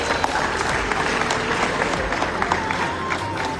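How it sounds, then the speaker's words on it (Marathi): Loud clapping from a group at a police recruitment written-exam results announcement, sustained dense applause with some crowd murmur and voices mixed in. "जोरात टाळ्या जोरात."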